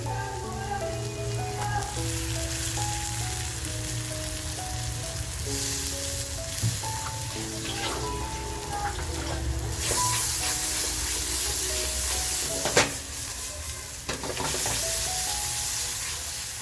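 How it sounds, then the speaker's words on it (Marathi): Tomato and masala frying in a pan for a Malvani surmai fish curry, a steady close sizzle holding evenly throughout with a few brief clinks and stirring sounds and background music tones over it. "आता बघा ह्याच्यामध्ये आहे ना छान असं मसाला खमंग परतला गेलाय."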